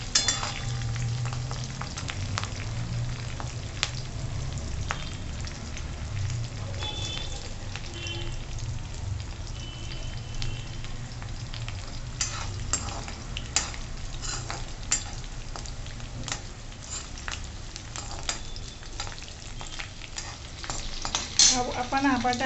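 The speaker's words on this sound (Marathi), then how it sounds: "आता आपण ही फोडणी चांगली खमंग करून घेऊ। त्यातला लसूण चांगला गुलाबी झाला पाहिजे" Garlic and green chili tempering sizzles steadily in hot oil for a Maharashtrian cabbage bhaji, a dense continuous crackle with frequent sharp spatters and stirring clinks throughout, loud and close with no talking.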